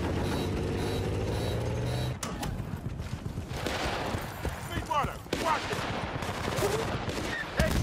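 Gunfire in the video game Battlefield: Bad Company, a loud stretch of rapid shots and bursts mixed with battlefield noise, starting after a steadier engine-like drone.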